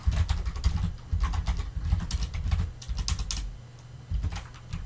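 Keys clatter steadily on a computer keyboard as code is typed on a Raspberry Pi 5 running Linux Ubuntu. The bursts come close and fast, with a short pause near the end, and no voice is heard.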